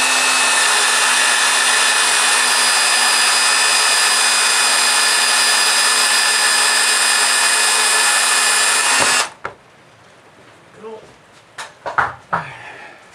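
Bandsaw cutting a wooden pencil blank in a workshop, a loud steady whine with a constant tonal hum that runs for about nine seconds and then stops abruptly, followed by quiet handling clunks and knocks.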